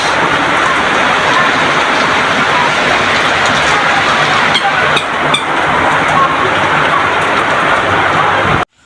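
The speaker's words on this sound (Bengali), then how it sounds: "দেখেন বাতাস, কত পরিমাণ বাতাস।" Loud, dense rain pours without a break while strong wind roars through it, a close, constant wash with a few brief crackles near the middle before it cuts off abruptly.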